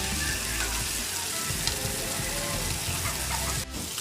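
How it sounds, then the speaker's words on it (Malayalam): Olive barb fish frying in oil in a pan, a dense steady crackling sizzle close up, continuous for the whole stretch with no talk and a brief clink near the end. "നന്നായിട്ട് പൊരിയട്ടെ"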